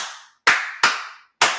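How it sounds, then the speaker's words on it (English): A few sharp, loud hand claps ring out one at a time, four distinct slaps spaced unevenly with short decaying tails, heard alone without talking. "Everybody clap."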